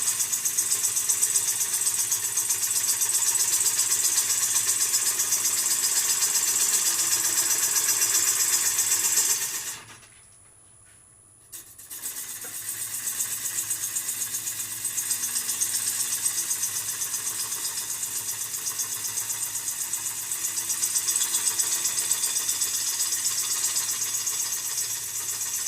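A wood lathe turns a wormy sycamore bowl with a steady, close whirring hiss as the gouge cuts and throws shavings. The cut stops briefly midway, then resumes at a slightly lower level, with no talking.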